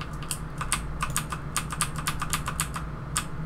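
Rapid, uneven clatter of a computer keyboard being typed on, close and fairly quiet, with irregular bursts of keystrokes over a low steady hum while playing a Roblox London bus game.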